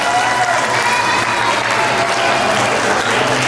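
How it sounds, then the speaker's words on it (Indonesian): Loud, sustained applause comes from a large audience of santri at a Nuzulul Quran evening event, a dense wash of clapping with crowd voices mixed underneath. "Sekali lagi beri tepuk tangan yang meriah."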